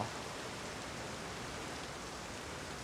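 Steady rain falls in a dark yard beside a kiln, a dense, even hiss that holds at a constant level throughout, with no voices.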